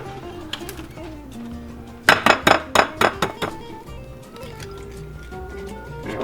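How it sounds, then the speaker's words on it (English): Eggs cracked against a bowl edge, a quick run of about six sharp close taps and cracks in a kitchen, followed by soft liquid drips with faint background murmur. "We're gonna crack us some eggs."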